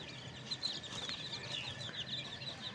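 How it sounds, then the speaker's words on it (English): A flock of backyard chicks and chickens released from a cage to forage, soft overlapping peeps and clucks chattering continuously at close range over faint outdoor background noise, with no talking. "here is all of my chicks"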